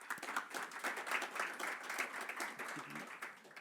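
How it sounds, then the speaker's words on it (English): Scattered applause for a presenter at a World Health Assembly side event on dengue fever, a steady patter of hand claps from a modest audience, moderately faint and continuous. "A round of applause for Raman"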